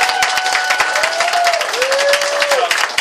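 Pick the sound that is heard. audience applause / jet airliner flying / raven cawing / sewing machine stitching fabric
audience applause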